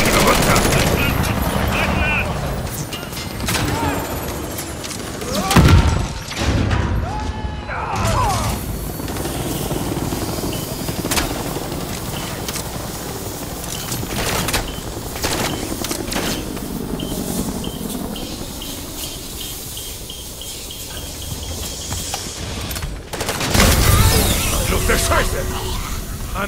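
Helicopter rotor drone mixed with bursts of rapid gunfire and booms in Modern Warfare III's campaign, dense and continuous, with shouted German voices over the top throughout.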